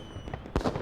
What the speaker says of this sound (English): The night sky shines as New Year fireworks bloom above the cityscape.